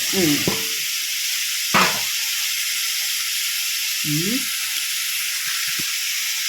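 Shredded chicken being stirred in a sizzling pan for chicken pastel, a constant frying hiss broken by a few distinct scraping stir strokes and short clatters, close and fairly loud, with no talking.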